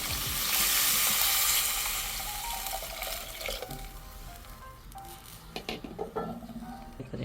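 Water poured into a hot frying pan bursts into a loud hissing sizzle that swells over the first two seconds, then settles into a quieter bubbling crackle with a few scattered clanks of a utensil.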